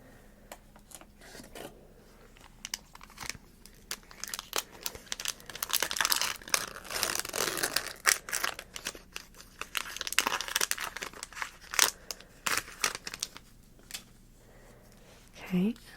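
A Magic The Gathering Duskmourn booster pack wrapper crinkles and tears up close, soft crumpling bursts building in the middle then easing off, with quiet soft-spoken talk around it.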